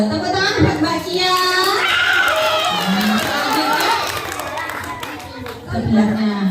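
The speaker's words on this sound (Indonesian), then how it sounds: "Tuh, tepuk tangan buat Mbak Cia." Children in a first-grade class clapping for a classmate, scattered light claps mixed with lively kid chatter and an adult voice talking over the noise.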